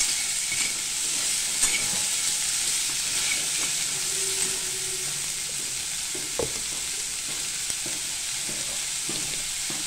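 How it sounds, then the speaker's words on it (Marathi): Cluster beans sauté in hot oil with garlic and coconut, giving a steady, bright sizzle throughout. Occasional soft scrapes and taps of a spoon against the pan rise above it. No one speaks. "शेंग आपल्याला तेलामध्ये आणि लसूण खोबऱ्यामध्ये परतवून घ्यायची।"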